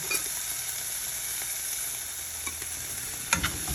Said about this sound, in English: We'll let that saute and get a little soft.